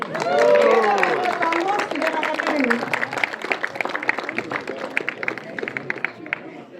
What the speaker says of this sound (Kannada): ನಿಮಗೆ ಒಂದು ದೊಡ್ಡ ಚಪ್ಪಾಳೆ